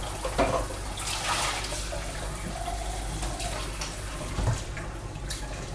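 Tap water runs and splashes into a sink while greasy fingers are rinsed, a close, uneven gushing with small bursts and splatters throughout, no talking.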